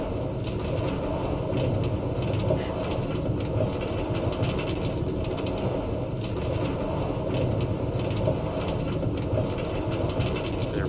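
A train runs along a railway line in a video game, giving a continuous loud rumbling and rattling of wheels on track that holds steady throughout with no breaks.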